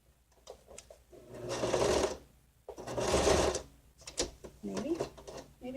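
Two bursts of steady mechanical whirring from a sewing machine straining to stitch through thick paper book pages, each about a second long, with quieter clicks and handling noises between and after.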